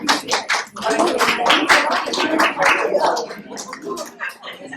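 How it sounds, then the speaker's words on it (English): Audience members at a talk on Indian epics clap in a scattered, uneven patter of sharp claps that builds and then thins out toward the end. "In fact, we need to applaud. Please clap."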